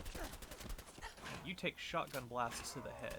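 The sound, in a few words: dog companion barking in video game Fallout 4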